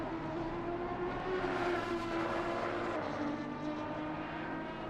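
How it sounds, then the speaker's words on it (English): A V12 race car engine in a PC racing simulator at the Hungaroring drones with a steady tonal whine, holding a sustained pitch that dips slightly as it passes, with no talking. "Nothing is more beautiful than the sound of a V12 engine."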